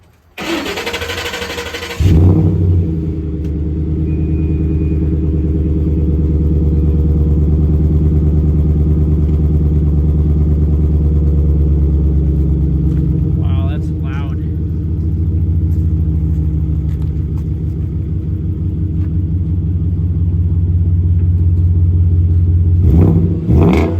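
A 2013 Ford F150 FX4 with a 5.0L Coyote V8, 3-inch exhaust, Thrush muffler and Volant resonator, fires up and settles into a steady, deep, raspy idle with a brief blip of revs midway, close and loud.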